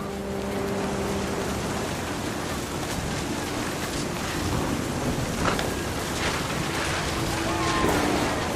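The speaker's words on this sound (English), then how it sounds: "The thunder sounded much too close and full of angry power" Thunder rumbling with steady heavy rain in the video game What Remains of Edith Finch, a continuous dense wash of downpour with low rolls of thunder building toward the end, heard alone without talk.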